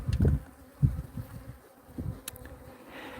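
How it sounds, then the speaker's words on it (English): An Africanized honeybee swarm buzzing, a faint, uneven hum with a few louder low thumps and passing buzzes near the microphone, no talking. "now they're Africanized honeybees"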